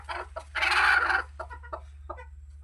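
A desi country hen clucks in a short run of close, distinct calls, with one louder, longer burst early on followed by several brief clucks over a steady low hum.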